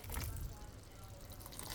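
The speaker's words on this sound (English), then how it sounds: "I'm just going to add a little bit of water" Faint water poured into a cooking pot of rice with sausage in a steady hiss, with a soft splashing rush at the start that settles into a quieter stream.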